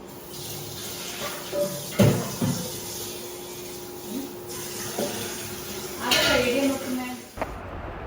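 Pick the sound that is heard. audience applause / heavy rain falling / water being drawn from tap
water being drawn from tap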